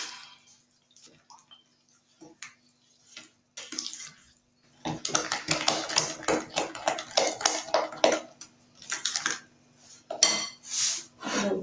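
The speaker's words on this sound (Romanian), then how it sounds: "acum amestecăm bine." Cozonac dough ingredients, including lemon and orange zest, being stirred in a bowl, with irregular clinks and scraping that grow busier and louder partway through, then continue in bursts.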